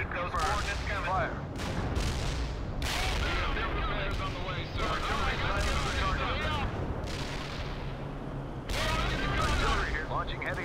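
Artillery shells fire in the video game World in Conflict: repeated heavy booms and gunfire crackle through a busy battle, with voices speaking over the barrage.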